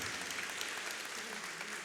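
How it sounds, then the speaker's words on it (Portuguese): Church audience applauding a little girl, a steady faint wash of clapping heard from a distance, even and continuous with no talk over it. "Dá uma salva de palmas para essa menina"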